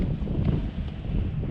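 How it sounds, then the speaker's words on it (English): Strong wind buffets the microphone on a windy roadside stop in Cappadocia, Turkey, a steady loud roaring rush with no pauses across the short stretch. "it's very, very windy here"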